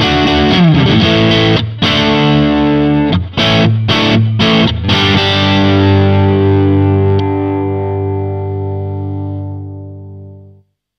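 Electric guitar with a Kinman zero-hum pickup through an amp's gain channel: distorted strummed chords with a few sharp choked stops, then a loud sustained chord ringing out and slowly decaying to silence, with no background hum.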